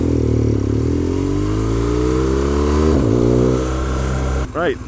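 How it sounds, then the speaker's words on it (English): A motorbike rides through city traffic, its engine loud and close as it revs and climbs steadily in pitch, then drops off abruptly near the end, where a brief voice-like sound cuts in. "see what it's like through the city traffic"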